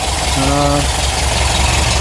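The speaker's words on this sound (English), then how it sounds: "Idling really good." A Porsche 914 engine idles with a steady, low rumble throughout after an auxiliary air valve repair, with a brief tonal whine rising over it near the start.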